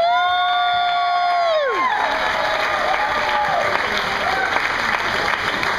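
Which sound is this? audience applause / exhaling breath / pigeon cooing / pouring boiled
audience applause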